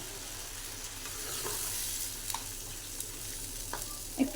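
Potato and pointed gourd curry sizzles in a frying pan, a steady close crackle with a few sharper pops and stirring clinks toward the end, no talking.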